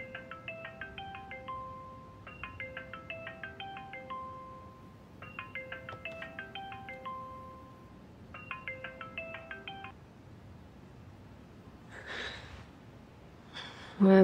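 A phone rings in repeated melodic bursts of electronic tones, four cycles with short pauses, fairly close and clear, followed by soft breathing and rustling.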